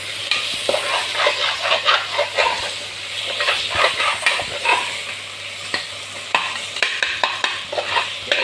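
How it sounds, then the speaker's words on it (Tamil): Masala sautéing in a pan for chicken, with loud, close frying sizzle and rapid rhythmic stirring strokes throughout, with no speech. "இப்போ இது நல்லா வதக்கலாம் ஃப்ரெண்ட்"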